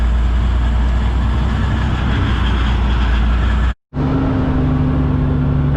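Farm truck with an N14 Cummins diesel engine driving during corn silage hauling, a loud steady engine drone and road rumble heard from the cab, briefly cut by a gap before resuming with a lower steady hum.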